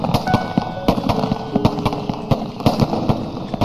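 Fireworks being set off for a costume drama scene produce a rapid string of sharp crackling pops over a dense, rumbling background, loud and sustained.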